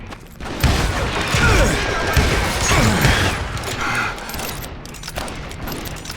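Intense gunfight in Call of Juarez Gunslinger, a dense wash of overlapping shots and crashing impacts that stays loud throughout, with faint voices buried in the din.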